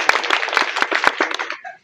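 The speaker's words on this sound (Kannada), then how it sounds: "ಒಂದು ಚಪ್ಪಾಳೆ ಹೊಡಿದಪ್ಪ ಎಲ್ಲರೂ" A crowd at a village road-works launch ceremony in Haveri breaks into brief scattered clapping, a quick burst of sharp hand claps lasting under two seconds before fading out.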